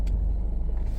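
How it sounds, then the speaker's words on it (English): Steady low rumble of a car interior, a muffled engine and road drone filling the cabin at low level with no talking. "because I'm in a car"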